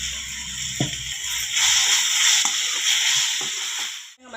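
Tomatoes fry with chilli powder and salt in a pan, giving a steady broadband sizzle with a few clinks of a utensil, moderately close, ending in a brief drop near the end.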